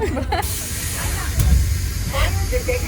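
Gas hisses in a steady broadband rush throughout, loud and close, with brief voices and small knocks mixed in.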